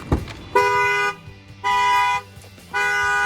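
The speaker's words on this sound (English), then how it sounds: "The alarm will fire off." A Ford Transit 350 van alarm honks the horn in three long, loud blasts with short gaps between them, after a brief thump at the start.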